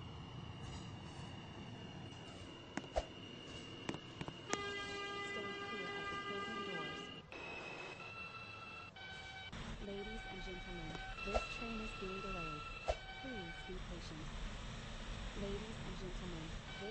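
An R68 subway train sits at a terminal station, its motors and compressors humming and whining with occasional clanks and bangs, while a recorded announcement plays over the train's speakers.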